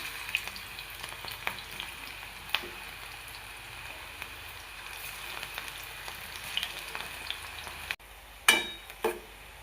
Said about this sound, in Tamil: போட்டு பொரிச்சு எடுத்துக்கலாம்.